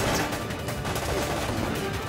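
Rapid bursts of video game gunfire from Resident Evil: Operation Raccoon City crackle densely, loud and close, with no pauses between shots.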